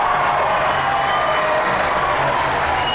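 An audience on a podcast or talk show gives a guest a round of applause, a dense, continuous wash of clapping with faint crowd murmur, steady and fairly loud throughout.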